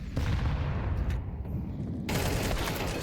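Rifle fire from a FAMAS and an AK in a Counter-Strike match, bursts of loud shots in two clusters with a short quieter gap between them, sharp and close.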